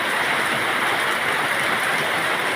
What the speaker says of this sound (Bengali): আবার শুরু হয়েছে বৃষ্টি